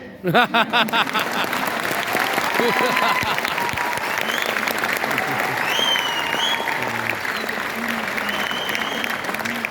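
An audience at a grand celebration event breaks into loud, sustained applause, dense clapping that goes on throughout with scattered whistles and cheers mixed in.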